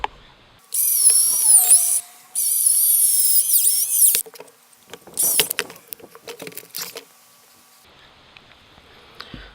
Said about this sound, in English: I might get a bigger drill bit